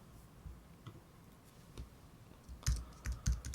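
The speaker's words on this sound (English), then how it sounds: "So now you see what I'm typing here." Typing on a computer keyboard, with scattered soft clicks at first, then a quicker cluster of sharper keystrokes near the end, close and quiet without talk.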